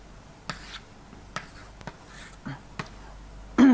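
Chalk or a marker taps and scratches on a board during a math lesson in a quiet room, landing in several short, separate strokes with gaps between them, followed by a louder brief burst at the end.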